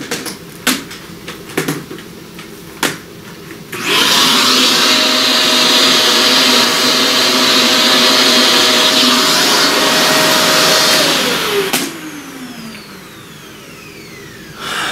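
A vacuum cleaner sucks up pastel dust, starting with a few clicks and a quick spin-up into a loud, steady whine that runs about eight seconds before winding down.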